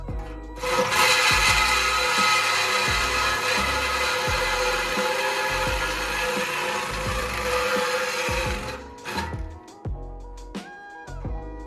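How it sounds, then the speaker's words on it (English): A worn saw blade grinds loudly and continuously through an old exhaust pipe on a Duramax truck for several seconds, then stops, leaving a few clanks and rattles. "Using an old blade to try to cut off this old exhaust."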